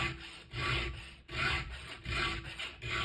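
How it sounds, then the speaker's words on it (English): A worn, hammered chainsaw tooth is filed by hand with a steel file, giving five even, rasping strokes in a steady rhythm, close and loud, with short gaps between. "When a tooth is hammered like this, I'm filing down this way right now."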